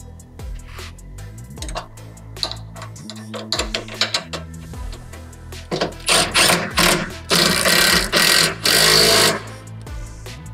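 Honda Element sway bar being bolted back up with 14 mm fasteners, close rapid ratchet clicking in bursts that grows louder and denser, mechanical rattles and a low hum underneath, no talk.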